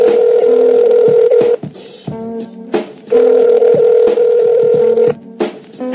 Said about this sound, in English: Let me try to get them on the phone.